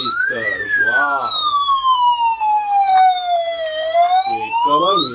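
A musical, light-up toy police car sounding its siren, a loud electronic wail sweeping slowly up and down, with short warbling musical bursts at the start and end.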